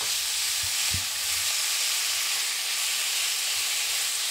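Chili pepper frying in oil in a pan, a steady close sizzle with soft crackling and a couple of low knocks near the start, no voices.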